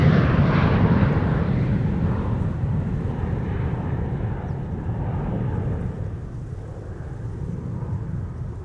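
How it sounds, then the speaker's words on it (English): Two Airbus A330 jets take off from Schiphol's Polderbaan runway in rain showers, a broad, steady jet roar loud at first and easing slightly as the aircraft climb away, with no voices. "the two A330s that you see there and there in the background have taken off"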